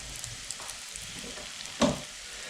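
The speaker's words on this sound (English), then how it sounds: "And then we're going to cook our mushrooms." Mushrooms cooking in a pan for a soft cheese and mushroom curry, giving a low, steady sizzle with a brief louder burst of hissing and spatter near the end, no voices.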